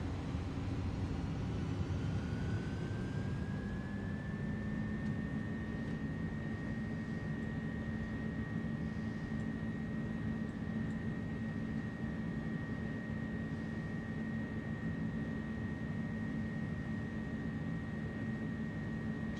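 Simulated jet engines of an Inibuilds A300 in Microsoft Flight Simulator 2024 spool up on the takeoff roll, with a whine rising in pitch then holding steady over a continuous roar.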